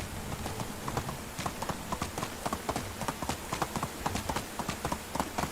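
Horse hooves clip-clopping steadily in the Medieval Dynasty video game while the horse is ridden, a regular rhythmic trot of clear, close hoofbeats across the whole stretch.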